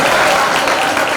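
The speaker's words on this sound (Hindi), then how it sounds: "ताली बजाओ उसके लिए।" Applause from a gathered audience honouring a child at a religious discourse, a dense continuous burst of many hands clapping, loud and close, filling the whole moment without pause.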